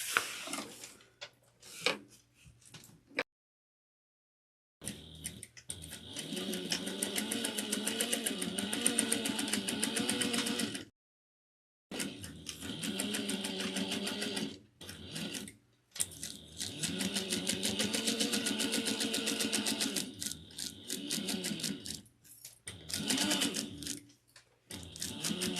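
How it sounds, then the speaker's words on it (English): A sewing machine runs a 3/8-inch seam on a slouch bag held with clips, in several long, steady bursts of rapid stitching separated by short pauses and near silence. "we're going to sew this at 3/8 of an inch"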